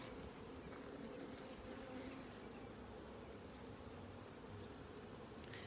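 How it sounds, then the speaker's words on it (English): Honey bees buzz in a dense, continuous drone close by during a beehive inspection of new hives, with no voices over the swarm. "So lots of bees are gonna be coming, which is really nice to see."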